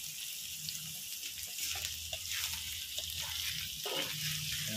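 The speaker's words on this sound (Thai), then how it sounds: "ผัดไปสักระยะหนึ่งแล้วก็ตามด้วยเส้นลงไปผัด" Meat stir-frying in a pan for pad mee tiew, a continuous soft sizzle with occasional stirring and scraping, fairly quiet and without talk.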